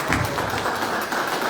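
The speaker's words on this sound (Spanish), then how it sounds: "un aplauso fuerte para ella" Audience at a forum on rights and the rule of law in Quetzaltenango applauding, a steady wash of clapping hands at close range with no gaps.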